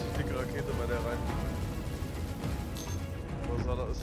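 Rocket impacts and explosions striking an Idris-class capital ship during a space combat game battle, a dense, continuous rumble of blasts and crashes with low booms throughout.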